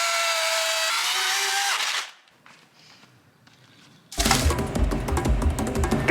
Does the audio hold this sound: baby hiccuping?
no